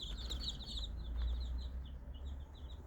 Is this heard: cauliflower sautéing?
no